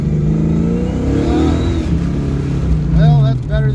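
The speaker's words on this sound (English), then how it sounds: "Second gear, 3000 RPM, wide open throttle punch." A carbureted car engine accelerates at wide open throttle in second gear, rising in pitch as a loud, close, continuous roar.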